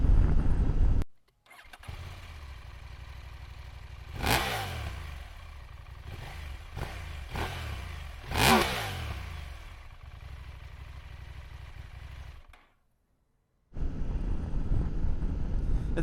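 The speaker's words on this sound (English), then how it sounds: "Keep in mind that it's a parallel twin engine, so you will not be blown away by the sound" A KTM 890 Adventure motorcycle with a parallel twin engine starts up and idles steadily, with two sharp revs rising and falling in the middle, then cuts off briefly before running again.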